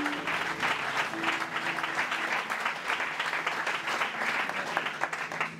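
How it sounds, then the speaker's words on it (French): Audience at an evangelical church gathering applauding, a steady wash of many hands clapping together for several seconds, fairly distant and even. "La sœur Belinda, j'aimerais qu'on acclame le Seigneur pour sa vie."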